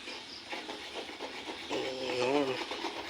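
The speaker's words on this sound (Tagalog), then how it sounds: "Kulong-kulo na siya." A pot of Lucky Me instant noodles boils hard on a stove flame, giving a steady hissing, bubbling rush throughout, while a voice briefly hums or speaks over it.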